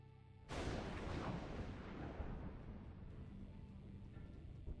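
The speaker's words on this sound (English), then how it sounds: "An explosion sounded nearby." A nearby explosion in Everlasting Summer, likened to lightning striking a tree a dozen meters away, erupts suddenly as a sharp, loud blast that rolls off into a long, rumbling decay.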